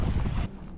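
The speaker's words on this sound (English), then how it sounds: "This is a windy one." Outdoor wind gusts across a microphone at a dusty RC bashing spot, making a brief, low, blustery rumble that eases after half a second.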